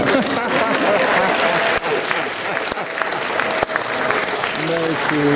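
Loud, dense applause from an audience at a mayor's presentation in Cameroon, sustained throughout, with a few voices emerging near the end.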